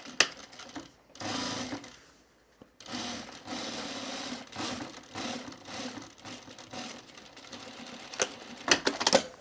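Close sewing machine stitching bias binding over a raw fabric edge on a bag, running in several uneven bursts with brief pauses and mechanical clicks between them.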